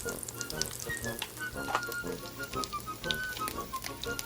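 Eggplant frying in oil in a pan, a steady close sizzle and crackle with faint stirring, no talk.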